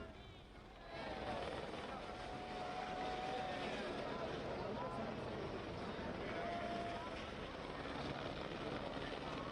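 A helicopter showering flowers over the Badrinath shrine gives off a steady, loud rotor and engine drone that begins about a second in and holds. Faint tonal whines and crowd murmur sit underneath.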